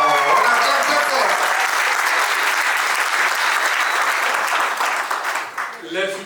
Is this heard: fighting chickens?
no